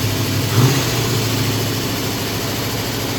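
A car engine runs steadily after cranking up, its fuel finally reaching the cylinders after sitting unused, with a brief louder burst near the start and then a smooth, continuous close-up drone with no voices.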